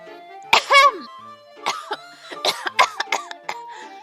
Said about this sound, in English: I slip into a nervous coughing fit